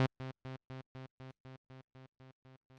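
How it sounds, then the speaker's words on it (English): Synthesizer note repeated by a delay effect with high feedback in the free Primer VST synth, about a dozen evenly spaced echoes every quarter second that fade slowly, alone with no talk. "So if I turn this up, it's going to go on for longer."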